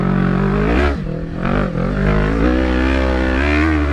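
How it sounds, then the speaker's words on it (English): A Kawasaki KLE500 motorcycle engine revs loudly and close while riding off-road, with a sustained harmonic drone that dips twice as the throttle blips before climbing and holding strong again. "Sounds like that classic Japanese engine just revving itself."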